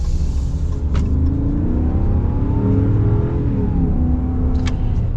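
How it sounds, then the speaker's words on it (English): A 2021 Ram Power Wagon 75th Anniversary Edition heavy-duty truck with a 6.4 Hemi V8 and 8-speed automatic accelerating hard, a loud, steady engine roar rising in pitch, close and continuous, with no talk over it. "we will be getting our acceleration here in just a second with this Power Wagon"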